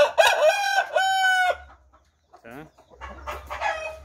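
A young Asil Argentino rooster crows loudly and close by, with two long strained crows and a brief pause between them.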